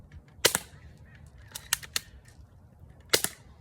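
A spring-powered BB gun fires at a cardboard box target, giving a few sharp, close snaps spaced over a few seconds against a quiet background.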